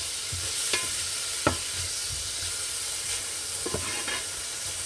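Tomatoes and green chili fry in a pan for a duck curry, giving a steady close sizzle broken by a few sharp clicks of stirring, with no talk.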